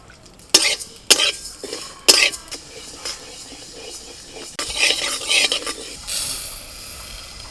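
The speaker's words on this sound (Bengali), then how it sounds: "শুকনো খোলায় একটু মুগের ডালটা নেড়ে নিই।" Mung dal dry-roasting in a dry pan is stirred with a utensil, giving scraping and rattling strokes, a few sharp knocks against the pan, and soft rustling of grains, close and uneven.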